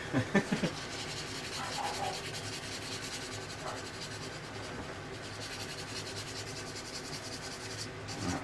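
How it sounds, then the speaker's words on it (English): Steady scratchy rubbing of a medium wet sanding stick on a 1:48 plastic model kit runs continuously, close up, with a few sharp knocks at the start. "I've gone down to medium sanding stick just to take out some of it"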